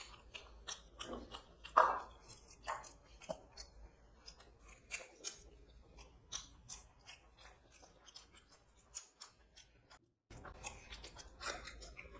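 Someone chews tender mutton kosha close up, soft wet bites and mouth sounds with irregular clicks at a quiet level, a brief gap near the end, no talking.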